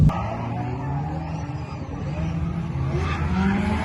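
A drift car during a practice run at an Irish drift championship, engine droning and revving with tire noise, steady and somewhat distant, rising toward the end.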